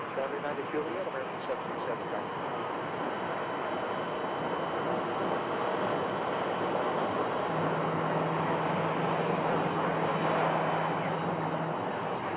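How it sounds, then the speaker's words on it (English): A jet airliner just landed at Phoenix Sky Harbor Airport, heard as a steady broadband engine roar at moderate distance, continuous throughout with a faint hum joining late. "This is one of the aircraft that landed."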